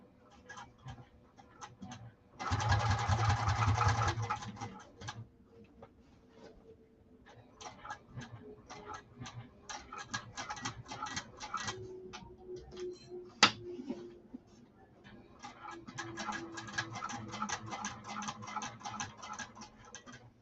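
A sewing machine runs a top stitch at stitch length 4 through a saddlebag lining, with quick, dense bursts of rapid mechanical ticking separated by pauses and one sharp click midway. The machine is close and moderately loud.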